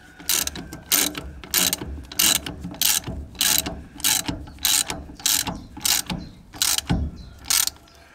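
A ratchet wrench tightening the wheel bearing nut on a trailer, about a dozen loud, evenly spaced bursts of rapid clicking separated by short pauses, close up.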